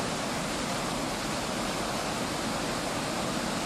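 Rapids and small falls on the Loobu river in Estonia give a loud, constant broadband roar of rushing water with no letup, close and filling the whole space.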